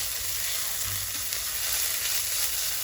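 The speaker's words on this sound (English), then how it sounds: "Just fry it a little bit, not too much, before we start adding our vegetables to it." Panang curry paste frying in a pan, a continuous, even sizzle and crackle close by with no speech.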